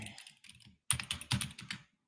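Quiet, close keystrokes on a computer keyboard come in two short bursts of rapid typing separated by a brief pause, with no talking.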